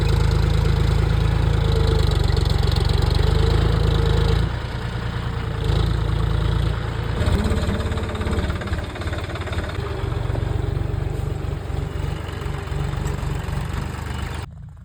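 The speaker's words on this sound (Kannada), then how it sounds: "ನಾನು ಹೋಗೋ ಅಷ್ಟರಲ್ಲಿ ಆಲ್ರೆಡಿ ಟ್ರ್ಯಾಕ್ಟರ್ ಹೊಡಿತಾ ಇದ್ರು." A tractor ploughing a farm field, its engine a loud, continuous, close drone with a heavy low rumble that eases slightly after a few seconds, no voices.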